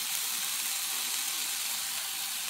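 Bread browning in a hot frying pan, cooked like a grilled cheese sandwich, giving a steady, even sizzle and hiss, close and unbroken throughout with no talking.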